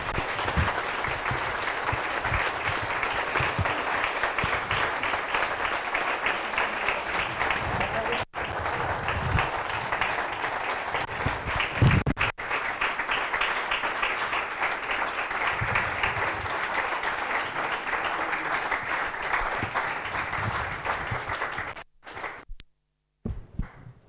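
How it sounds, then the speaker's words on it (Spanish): A lecture audience at a Madrid history talk breaking into sustained applause, a dense, even roar of clapping lasting over twenty seconds before tapering off abruptly. "Yo les pido un aplauso para ellos"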